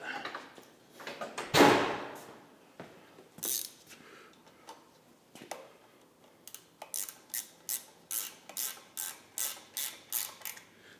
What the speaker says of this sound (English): Get a wrench, just tighten those up a little bit.